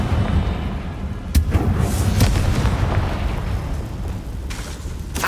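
A Confringo fire spell explodes in Hogwarts Legacy, a dense booming blast over a continuous rumbling game soundscape, with a sharp burst near the start.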